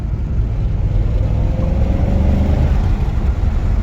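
The engine of a BMW E39 M5 blips and revs during a downshift, a loud, close, continuous low rumble with no talking.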